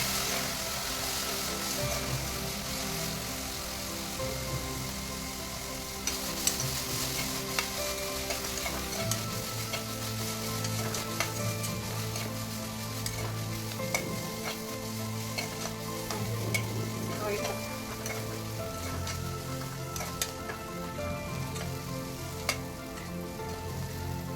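Potatoes fry in oil in a pan with a steady, moderate sizzle, punctuated by occasional stirring and scraping, close by and continuous with no voices.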